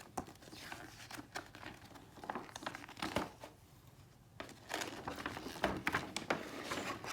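A plastic instruction manual bag from an XRAY XB2C 2022 Edition RC car kit rustles and crinkles up close in irregular bursts, with a brief quieter pause midway before the handling picks up again.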